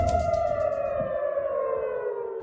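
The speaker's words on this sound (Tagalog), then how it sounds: "Pinatunog ang mga sirena sa Tel Aviv sa Israel nang namataan sa kalangitan ang mga nagliliparang tila bolang apoy" Civil defense air raid sirens wail across Tel Aviv, Israel, a loud sustained tone slowly falling in pitch and ringing steadily through the whole stretch with no voices.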